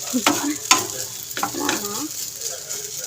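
Pasta being stirred and fried in a home kitchen pan gives a soft sizzle under repeated scraping strokes of a utensil, fairly close, with a few irregular clinks.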